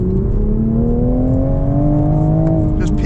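A 2025 Toyota GR Supra Track Edition with a manual gearbox pulls hard at full throttle in second gear, its engine note loud and close and rising steadily in pitch as it accelerates, with a constant rushing roar underneath.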